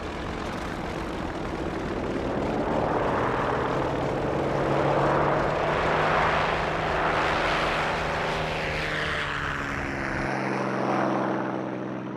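Droning propeller engines of WWII American carrier aircraft in flight, SBD dive bombers and Devastator torpedo bombers, a loud steady roar that swells and fades as the planes pass overhead.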